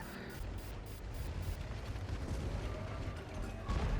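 Artillery strikes and battlefield gunfire in War Thunder, with a Rhm.-B. tank in play, rumble as dense continuous low booms and mechanical clatter, a heavier blast near the end.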